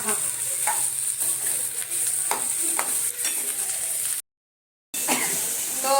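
Okra (bhindi) sabzi sizzles in a pan while being stirred, with a continuous frying hiss and repeated scraping stir strokes. The sound briefly drops out, and a voice talks over it.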